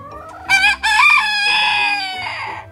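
A backyard chicken lets out a loud, drawn-out call close by, a couple of rising squawks that slide into a long, wavering cluck-like tone.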